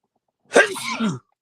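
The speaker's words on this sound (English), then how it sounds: "had to get that sneeze out" A single close, loud sneeze with a sharp burst and trailing voiced tail, then quiet.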